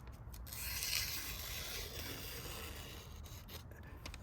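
A faint, steady rasping scrape of a Gerber ULU knife blade dragging across a sharpener continues for a few seconds against quiet background noise.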